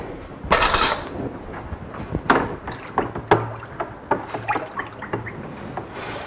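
Milk is stirred in a pot after a pinch of feta starter culture goes in, with a spoon knocking and scraping against the pot in irregular clunks. A louder rustling burst comes near the start.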